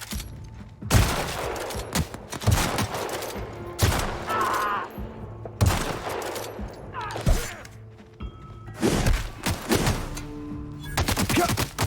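Gunfire in The Outer Worlds, fired at enemies' heads: several sharp, loud bursts and single shots spaced irregularly, with thuds and impact clatter between them and no talk.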